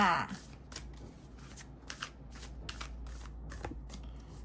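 Tarot cards being shuffled and handled during a reading, a rapid series of crisp riffling flicks and soft slaps close to the microphone, with talk in the background.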